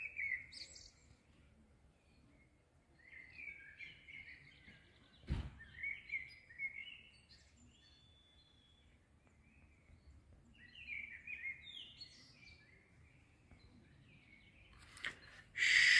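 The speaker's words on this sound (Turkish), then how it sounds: "Vallahi kuşun ötüşüne bayıldım." A single bird sings clear, bright chirping phrases at intervals in a quiet forest park campground in Akyaka, Muğla, fairly faint and distant, with one sharp knock midway and no talking.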